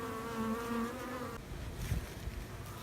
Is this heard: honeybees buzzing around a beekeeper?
yes